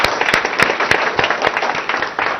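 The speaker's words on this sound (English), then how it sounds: "the entire family of ZF deserves a huge round of applause" Audience applause at the opening of the ZF technology center in Gachibowli, Hyderabad: sharp, uneven clapping with sporadic louder claps, moderately loud and fairly close, sustained steadily across the short stretch.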